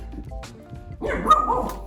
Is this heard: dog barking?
yes